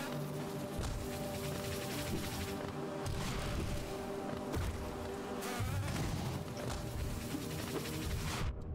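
Buzzing bees fill the Hive area of the Hollow Knight video game, a dense, continuous insect drone with layered tones and occasional soft impacts, with no talking.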